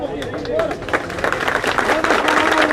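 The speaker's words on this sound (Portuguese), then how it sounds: "a população aplaudindo o corpo entrando nesse momento aqui no cemitério" A crowd claps at a cemetery in Caruaru as a coffin arrives at a burial, sustained applause mixed with murmuring voices while a reporter speaks over it.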